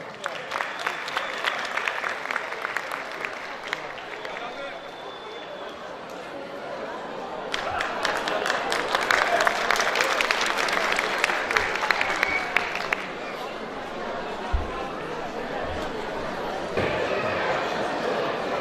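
An audience at a Kosovo independence celebration in Küçükçekmece breaks into sustained applause for a music group, dense clapping that swells louder midway and continues throughout.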